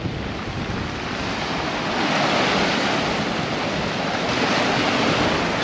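Waves breaking on the beach at Cala Codolar, Ibiza, in winter: a continuous broad roar of surf with wind rushing over the microphone, loud and steady throughout, swelling slightly midway.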